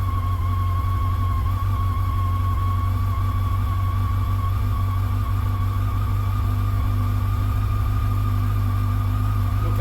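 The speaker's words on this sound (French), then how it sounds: "on l'entend, le régime moteur a augmenté" A Yamaha FJR 1300 motorcycle engine idles steadily with a low throbbing hum, its pitch creeping slightly upward as the idle speed rises, close and continuous.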